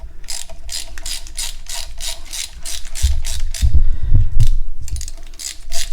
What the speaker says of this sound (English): loosen all the bolts on the oil pump so we can pull the oil pump